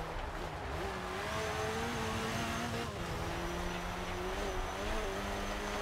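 A Renault Clio's engine drones steadily in Forza Horizon 2 as the car drives on asphalt, its pitch rising and falling through gear changes, loud and continuous with no voices.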